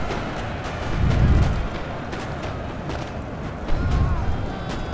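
Musket volley fire in Napoleon Total War, heard as distant rumbling crackle and muffled booms rising and falling in two swells over a continuous battle din.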